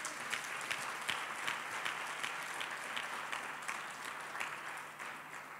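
A church congregation claps during a sermon, a scattered, moderately distant round of hand claps with irregular sharp hits that carries steadily without fading, and no voices over it.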